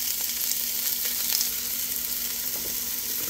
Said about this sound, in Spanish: Vamos a dejar que se dore un poquito.